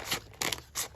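Scissors cut through Amazon packaging material in three quick crisp snips, close and fairly quiet, with no talking.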